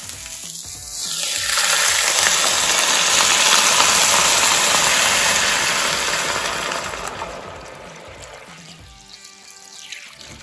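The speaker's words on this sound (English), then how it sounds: "Next, we're going to add our stock here" Stock pours into a pot of vegetables with a broad, steady rushing splash that swells and then fades over several seconds. A low hum runs underneath.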